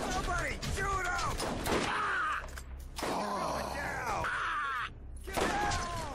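Gunfire in Borderlands: dense, clattering bursts of shots and in-game effects mixed with squealing, chirping sounds, under overlapping talk throughout.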